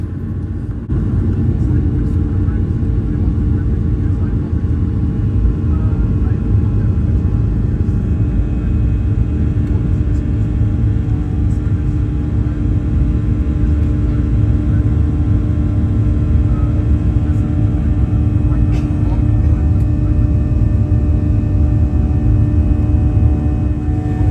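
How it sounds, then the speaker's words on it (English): A Ryanair airliner's cabin drones during a short flight to Newcastle, with a loud, steady, unbroken engine and air rumble throughout. "Takeoff was smooth and flying time to Newcastle is a mammoth 45 minutes."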